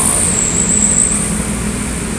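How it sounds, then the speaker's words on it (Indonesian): A Damri bus drives along a road heading toward the Sumatra toll road, giving a loud, steady engine roar and tyre rumble close by, with no voices. "Ada unit Damri"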